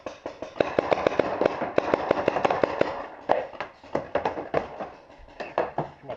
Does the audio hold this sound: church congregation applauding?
no